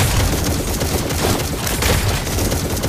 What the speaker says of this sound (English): Behold my crescendo bullet.